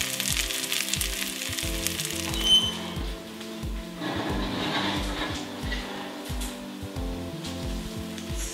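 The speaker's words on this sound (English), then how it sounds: "So here are the cheese spätzle, sizzling, delicious" Cheese spätzle fresh from the oven sizzle and crackle steadily at close range, a continuous frying hiss with a brief louder crack, while a background rhythm continues.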